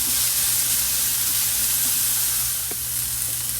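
Garlic fries in a hot pan with a steady, loud, hissing sizzle, stirred now and then with faint scraping taps.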